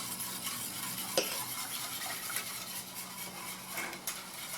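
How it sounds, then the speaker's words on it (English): A spoon stirs a sugar and salt mixture in a pot over low heat, with a steady scraping swish and a faint background sizzle, close and continuous, plus a couple of brief clinks against the pan. "you'll constantly stir this over low heat till it begins to thicken"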